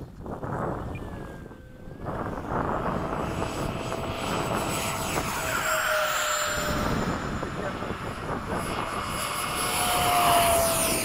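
Jet aircraft, an F-16 and a Yak-130, flying past at an airfield, a loud continuous roar with rising and falling whine and wind buffeting the microphone, swelling louder toward the end.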